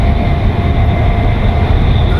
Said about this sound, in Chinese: 火车开进黑龙江省